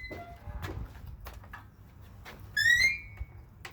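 A garden gate's dry, unlubricated hinges give a brief, high rising squeak as the gate swings, standing out above faint background shuffling and knocks.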